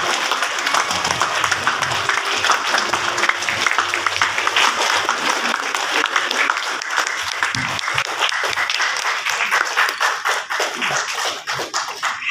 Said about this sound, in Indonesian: Mari bangkit berdiri, kita beri aplaus, tepuk tangan.